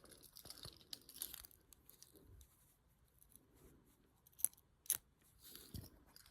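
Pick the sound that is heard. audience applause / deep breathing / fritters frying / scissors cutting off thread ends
scissors cutting off thread ends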